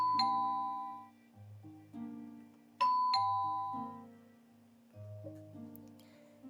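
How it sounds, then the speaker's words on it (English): Electronic doorbell in the video game Tears of Themis, ringing outside a house: a bright two-tone chime sounding three times in a steady pattern, each followed by a softer low tone. "You're standing outside of Vin's house and ringing his doorbell, but no one is answering."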